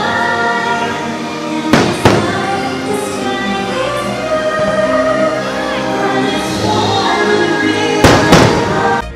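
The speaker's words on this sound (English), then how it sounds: "We were also able to enjoy the Magic Kingdom fireworks from Adventureland." Magic Kingdom fireworks heard from Adventureland boom and crackle continuously over a dense, loud bed of music, with a pair of sharp, heavy bangs near the start and another pair near the end.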